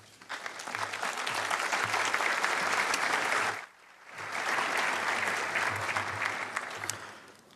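Enthusiastic applause from a large audience at an architecture award evening welcoming the speaker for the introduction; dense, loud clapping that dips briefly midway and then swells again for several seconds.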